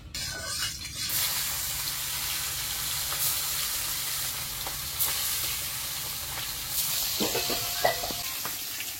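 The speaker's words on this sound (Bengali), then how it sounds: "কড়ার মধ্যে এবার তেল দিয়ে দেবো, ভেটকি মাছখানটা ভাজবো" Bhetki fish fries in hot oil in a wok, a loud continuous sizzle and crackle that starts abruptly and holds, with some louder spits toward the end.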